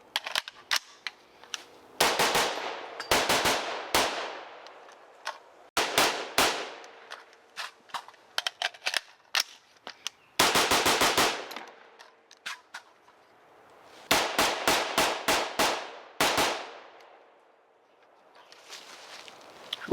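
An AR-15 rifle firing a mix of XM193 and 55-grain soft point duty ammunition outdoors, with loud sharp reports coming in rapid strings and single shots spaced by short pauses, with no talk.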